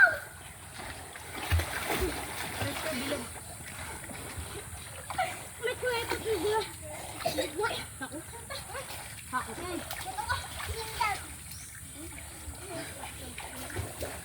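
Water splashes and sloshes in irregular bursts, with people talking and calling out over the splashing.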